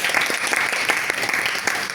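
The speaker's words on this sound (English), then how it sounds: "So let's give all the role players a big round of applause." Toastmasters club meeting audience in Brunei giving a steady round of applause, dense overlapping claps at moderate level filling the room without pause.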